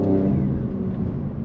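A BMW M3 engine drones steadily while the car is driving, giving a low, rumbling intake and engine tone that holds for a second and a half, close and fairly loud, with no voices.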